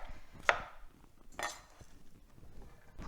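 A knife finely chopping a quarter of an onion on a board: a few sparse, sharp taps spaced about a second apart, quiet and close, with no talking.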